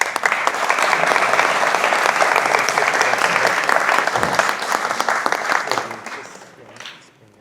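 Audience applauding the director Oscar Pujol at a lecture event, a full steady round of clapping from a seated crowd that holds for about six seconds and then fades out quickly.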